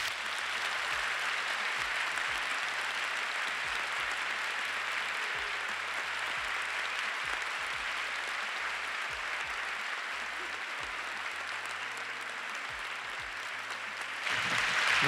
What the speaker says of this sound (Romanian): aș vrea să le dați aplauze pentru că ei vor intra împreună